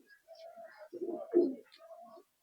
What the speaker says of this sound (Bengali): এই যে দেখুন পায়রাটা ছাড়া হলো খাঁচায়